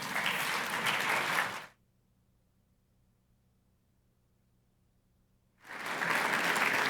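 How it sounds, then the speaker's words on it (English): Audience applause welcoming a speaker to the stage at a political conference, loud full clapping that drops to near silence in the middle and then swells back just as strongly. "let's stand and give a nice round of applause to Hugh Hewitt"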